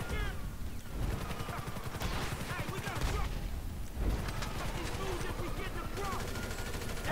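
Grand Theft Auto V heist gameplay with bursts of automatic gunfire and heavy explosive blasts from RPG shots, rapid rattling volleys repeating across the stretch under quieter game sounds and faint voices.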